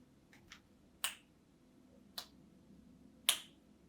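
Finger snaps, several sharp dry clicks spaced irregularly over a quiet background, the last one loudest, no voices.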